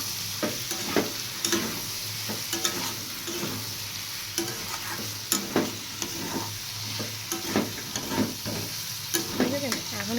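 Potatoes with poppy seed paste being stirred in a frying pan, a soft continuous sizzle with repeated scraping clicks of the spoon against the pan at an irregular, steady pace.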